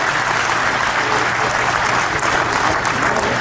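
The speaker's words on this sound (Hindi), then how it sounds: "एक बार इनका भी ताली बजा के आप स्वागत कीजिए।" An audience at an official event applauds steadily to welcome a minister, a dense continuous wash of clapping from many hands without pause.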